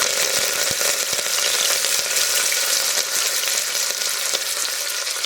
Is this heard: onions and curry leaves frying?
yes